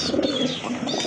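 At a large pigeon farm the birds coo in a low, soft, steady murmur, one brief stretch of close cooing with no speech.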